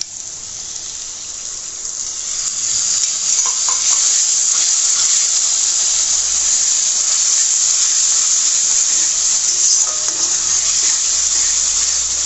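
A steady stream of water pours and splashes continuously into a pot of beef korma spice paste, a loud, even hiss that grows slightly fuller after the first couple of seconds.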